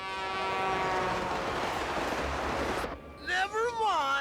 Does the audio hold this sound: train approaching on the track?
yes